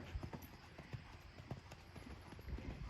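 A horse lopes in an arena during hunt seat training, hooves thudding in a quick, regular three-beat rhythm, faint and distant with low background rumble.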